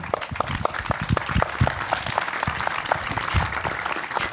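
Audience applause at a post-show talk following a Sweet Land performance, a steady patter of many hands clapping throughout, fairly close and moderately loud.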